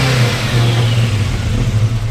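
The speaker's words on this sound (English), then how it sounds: "Go ahead and rev it up again." A fuel-injected Ford 351W V8 with headers in a 1940 Mercury 8 coupe revs up close and loud, with a steady low engine drone throughout and no talk.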